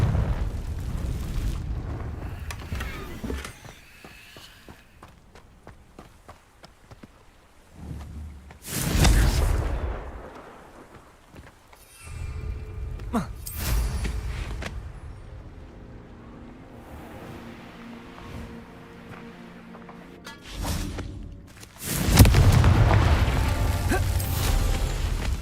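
The Confringo explosive spell in Hogwarts Legacy blasts rocks, several heavy booming bursts separated by quieter stretches of rumbling debris and ambience, loud and close.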